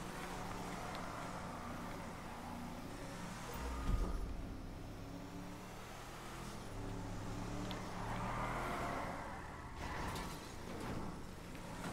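A Dodge Ram pickup truck drifting in GTA 5, its engine droning steadily with rising and falling revs, tire noise and a short thump partway through, heard without talk.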